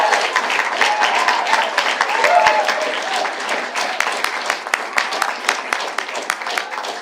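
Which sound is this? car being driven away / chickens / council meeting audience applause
council meeting audience applause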